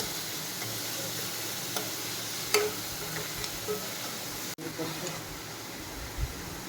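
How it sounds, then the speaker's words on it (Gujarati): Chopped onions sauté with salt in a pan, a steady close sizzle punctuated by occasional light scraping and tapping from stirring. "ડુંગળી ગોલ્ડન બ્રાઉન કલરની થાય ત્યાં સુધી સાતળશું."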